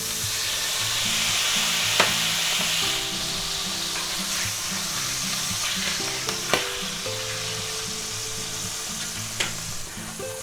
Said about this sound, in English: we're going to take a 1/4 cup of dry drinking wine,